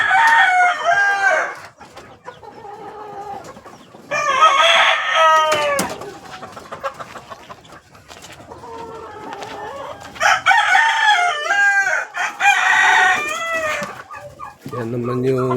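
Kelso gamefowl roosters crow repeatedly at close range, loud drawn-out cock-a-doodle-doo calls mixed with clucking and other fowl sounds in a farmyard, with a few brief spoken bits between calls.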